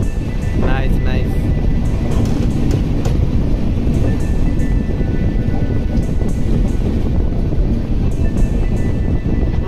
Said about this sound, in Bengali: কি সুন্দর ট্রেনটা বাঁক নিচ্ছে দেখুন